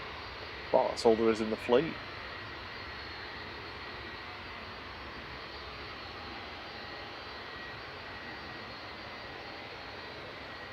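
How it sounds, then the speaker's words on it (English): A Jet2 Boeing 757 departs Manchester Airport, a faint steady jet rumble and hiss carrying on through the whole stretch after a short burst of nearby speech at the start. "first of 3 Jet2 757s going out"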